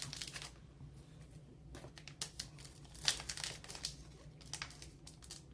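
An Allen & Ginter trading card pack wrapper is crinkled and torn open up close, with a sharp tearing burst midway amid quieter foil rustling.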